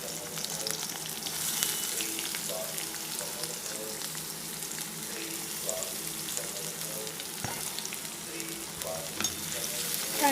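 Sliced onion stir-fried in a hot pan for restaurant-style veg hakka noodles, a steady close sizzle with a spatula scraping and tossing at intervals, no talk.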